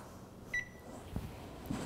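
A kitchen timer gives one short, faint beep while Moroccan food is being cooked, followed by a few quiet kitchen knocks.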